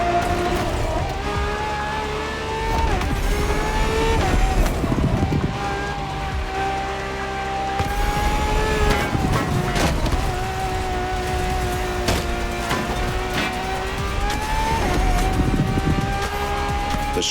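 A Ferrari V12 hybrid, the strongest naturally aspirated Ferrari V12, racing in The Crew Motorfest: a loud, continuous engine howl rising and falling through gear changes, with tire squeal and wind noise, and no talking.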